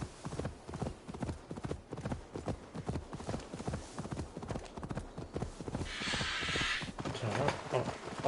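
Horse hooves clip-clopping at a steady walking pace in the video game Assassin's Creed: Dawn of Ragnarok, close and rhythmic, with a brief rushing swell partway through and a short bird call near the end.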